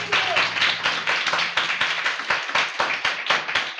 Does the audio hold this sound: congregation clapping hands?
yes